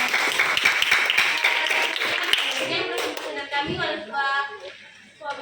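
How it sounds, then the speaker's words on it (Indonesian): A classroom audience claps for a presenting student group during an Indonesian teacher-training lesson, a burst of many close hands that thins into scattered claps, with a voice speaking over the end. "tepuk tangan dulu untuk kelompok"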